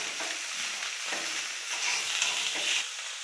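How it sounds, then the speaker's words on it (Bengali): Chowmein with egg tossed and stirred in a hot pan, a dense continuous sizzle with soft scraping movements throughout, close and steady. "একসাথে এমনভাবে নেড়ে নেব"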